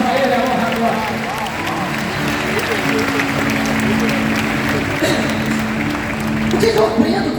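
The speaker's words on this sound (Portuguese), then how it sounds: "pode dar um aplauso para eles" A church congregation applauds, a dense continuous wash of clapping sustained throughout at moderate loudness, with a steady tone and some voices mixed in.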